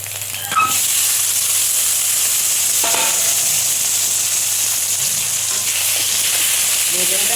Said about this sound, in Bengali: কাঁচা লঙ্কা কালো জিরে ফোড়ন দিচ্ছি দিয়ে বেগুনটা বসাচ্ছি